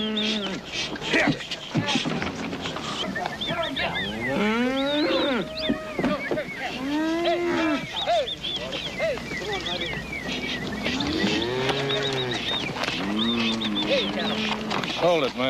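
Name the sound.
cattle mooing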